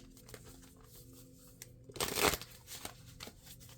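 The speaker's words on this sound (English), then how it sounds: "you guys should be able to hear me shuffle" Tarot cards being shuffled by hand on a table, a short, loud riffling burst in the middle of an otherwise quiet room with faint low background hum.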